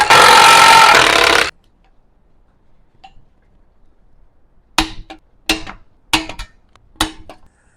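Tools working on a heat shield of an LB7 Duramax engine: a loud burst of rattling noise, then quiet, then four sharp metallic clicks spaced about half a second apart, close up.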